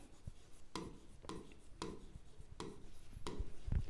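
Chalk or marker strokes on a board while a class 9 algebra problem is worked out, five or six short distinct scratchy taps at a steady pace, close and fairly quiet, with no talking.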